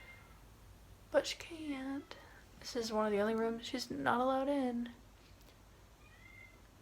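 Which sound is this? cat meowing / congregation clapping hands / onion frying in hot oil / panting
cat meowing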